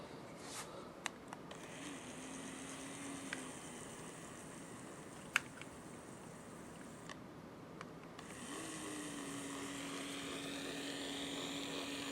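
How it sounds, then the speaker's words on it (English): A small battery-operated Gaposa window blind motor runs with a thin, steady whine in two short spells separated by a quiet pause, with a few faint clicks in between. "Start with the battery operated smaller motor here."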